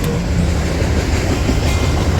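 A freight train with rear DPU locomotives rumbles past close by in Rochelle at about 50 to 60 mph, a steady loud roar of rolling wagons with faint clattering wheels, no voices.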